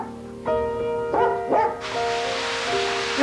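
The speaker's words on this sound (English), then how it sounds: "she thought something might have spooked the dog, but there was something more to the barking" A dog barks three times at close range in sharp, evenly spaced bursts, followed by the steady hiss of a running shower.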